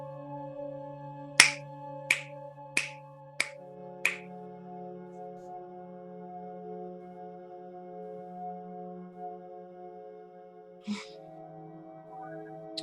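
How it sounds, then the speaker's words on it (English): Five crisp finger snaps in an even rhythm, then a single snap after a pause, close and sharp over a soft steady meditative drone. "Just like snapping your fingers a few times, kind of like at a poetry reading."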